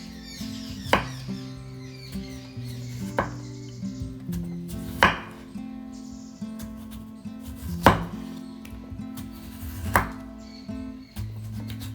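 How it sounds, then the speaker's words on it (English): A knife slices a large peeled potato into thin strips on a board, giving sharp, distinct chopping thuds roughly every two seconds over quiet background music, close and clear. "Let's slice it into thin stripes in this way."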